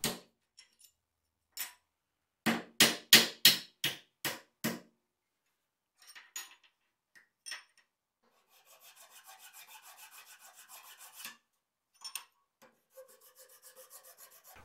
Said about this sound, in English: And then I can just file off the burr that pushed out on the other side.